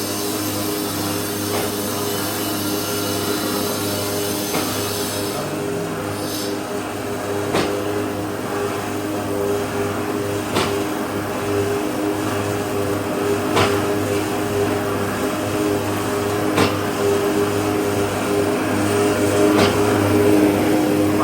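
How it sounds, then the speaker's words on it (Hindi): A 28-inch nali (channel) making machine driven by a 5 HP three-phase motor through a gearbox runs with a steady mechanical hum, punctuated by sharp periodic clacks about every three seconds, loud and continuous. "28 इंच की मशीन है, नाली तैयार हो रही है।"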